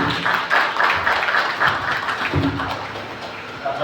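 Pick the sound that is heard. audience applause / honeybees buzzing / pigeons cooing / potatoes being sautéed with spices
audience applause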